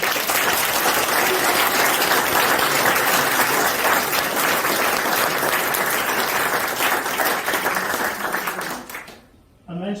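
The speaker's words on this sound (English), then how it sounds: "give a round of applause for Jason Quigley" Audience at an athletics club reception applauding a boxer's introduction, loud sustained clapping from a sizable crowd that fades out near the end before a voice resumes.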